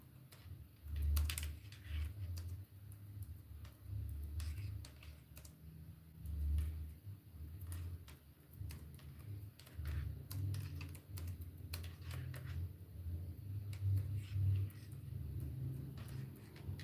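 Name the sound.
typing on a computer keyboard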